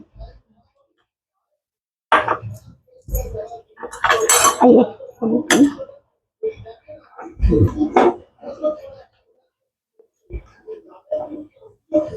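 A spoon clinks and scrapes against a dish while flour is mixed with ghee for modak, giving irregular bright metallic taps and rattles close by with short gaps between them.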